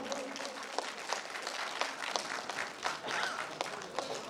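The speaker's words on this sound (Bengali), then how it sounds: "একটা জোরে হাততালি হয়ে যায় ওনাদের চারজনের জন্য" Audience applause at a school event, a steady wash of many hands clapping with sharper individual claps standing out, fairly distant and sustained throughout.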